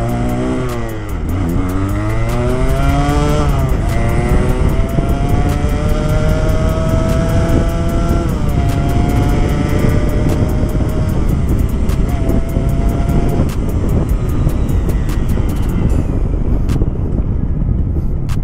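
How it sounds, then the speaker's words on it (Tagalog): Kawasaki AR80 two-stroke motorcycle engine, carb-tuned with a stock Keihin 24mm carburetor, revving hard in first gear, loud and close with rising, sustained pitch sweeps over a steady buzz. "ibirit na natin to."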